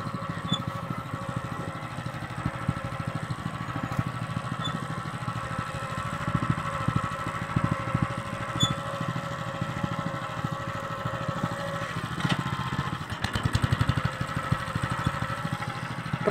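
An MTZ 09N walk-behind tractor engine runs with a steady, rapid chugging putter at moderate distance, holding a fairly even rhythm throughout with slight swells in loudness.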